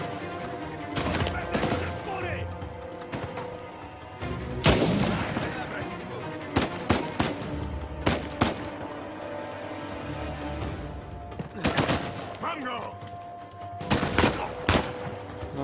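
Bursts of gunfire in the video game Uncharted 4 crack out in irregular volleys, sharp single shots and short clusters spread across the stretch over a steady game-sound background.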